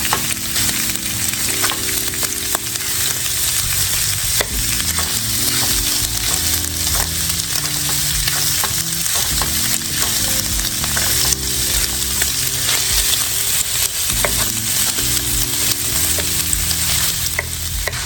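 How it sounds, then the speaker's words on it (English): Sausage with its casing removed sizzles and fries steadily as it browns in a soup pot, with stirring and chopping scrapes breaking it up throughout, loud and close. "So we're gonna go ahead and brown these. And just chop them up."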